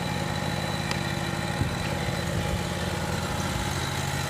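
A Yamaha EF12000DE generator with a 22-horsepower Robin industrial engine idles steadily at close range, its loud, even mechanical drone holding without pause and with no voices over it.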